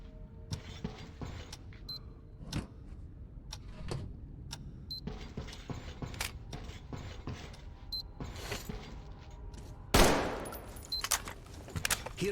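Rifle test-fired in Metro Exodus (Sam's Story DLC): a run of sharp, separate shots with mechanical clacks and creaks in between, ending in a louder burst near the close.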